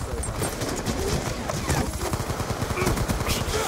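Heavy machine gun fire in a video game: rapid, sustained bursts of loud automatic shots close by, the rattling stream running almost unbroken across the whole stretch.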